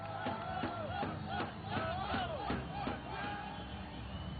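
A cricket crowd roars after a short ball is pulled away for four runs, a loud, sustained swell of cheering and shouting from a packed stadium with rising and falling peaks throughout.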